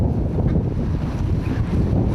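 Strong wind buffets the microphone at a small harbor where fishing boats are being lashed together against the waves, a loud, continuous low roar with no voices.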